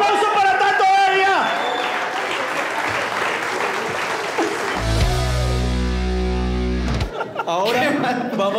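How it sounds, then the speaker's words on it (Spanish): A studio audience at a Spanish-language comedy game show breaks into loud, dense applause with cheering, while a host's amplified voice and game sound effects play over it, ending with a sustained electronic tone and a brief musical sting. "¡Quiero un aplauso para Tato Heria!"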